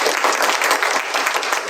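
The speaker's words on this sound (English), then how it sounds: "Let's give all of our speakers a round of applause." Audience applause for a panel of speakers at a morning community forum on Statesboro security: steady, dense clapping from a sizable crowd that holds throughout at full strength.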